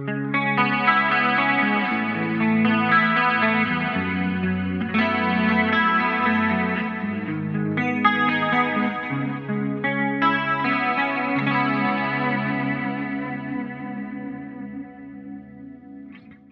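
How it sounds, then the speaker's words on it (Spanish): Guitar chords run through an Eventide H90 pedal set to a tape-style modulated delay with chorus, giving warbling, wavering repeats, strummed in several phrases over about sixteen seconds without speech. "le agrego la modulación al delay, es decir, el efecto, si querés, tipo cinta"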